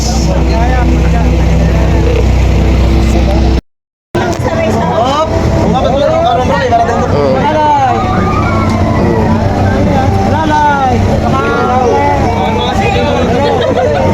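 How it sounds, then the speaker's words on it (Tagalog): Loud droning engine of a motorboat under way off Batangas, Philippines, with many people chattering and calling over it; the sound cuts out briefly partway through. "Ayan, sumasaya po ng bangka."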